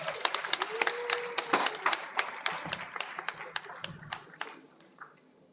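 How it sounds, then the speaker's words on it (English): An audience at a commemorative lecture claps to welcome a speaker, a loose patter of individual hand claps from a modest crowd, fairly distinct and near, tapering off toward the end. "Let's clap one more time to welcome our second speaker for the day"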